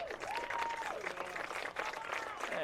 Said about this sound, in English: nice injured player coming off to a nice round of applause